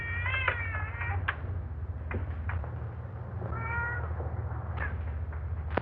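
Several cats meow repeatedly in overlapping, drawn-out wavering cries, some rising into caterwauls, heard close and clear over a steady low hum in an old 1930s film soundtrack.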